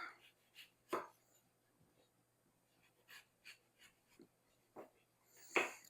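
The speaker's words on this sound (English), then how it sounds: "I have two smaller apples, and I'm just going to cut those up" Knife chopping two small apples on a cutting board, a handful of separate sharp knocks spread over several seconds, moderately close in a quiet kitchen with no talking.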